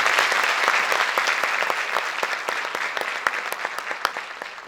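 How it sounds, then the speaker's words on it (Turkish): Audience applause at a Turkish classical music choir's 100th-year concert: dense, continuous clapping from a crowd fills the hall, steady at first and then thinning slightly with a few sharper individual claps toward the end. "Buradan ona da bir alkış ve saygılarımızı gönderiyorum."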